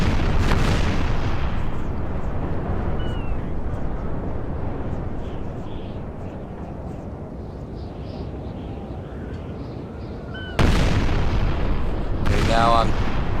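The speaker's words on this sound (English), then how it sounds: "Heavy firing going on, but the British and the Austrians are just circling." Ship cannons thunder in a naval battle in Napoleon: Total War, a dense continuous roar of rumbling broadside fire with two sharp, loud blasts near the end.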